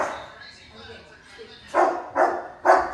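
A mastiff-mix dog near a house gives a few soft whimpering sounds, then three loud, close barks in quick succession, and speech-like voice sounds are also present.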